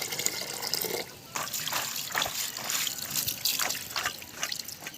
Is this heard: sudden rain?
yes